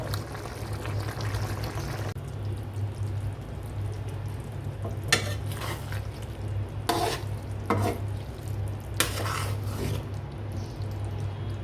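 A dried fish and vegetable curry with green chillies and garlic simmering in a pan, soft bubbling over a low steady hum, broken by a few short bursts of a spoon stirring and scraping, no talk.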